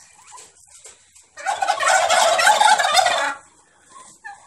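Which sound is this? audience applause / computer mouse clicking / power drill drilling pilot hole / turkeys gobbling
turkeys gobbling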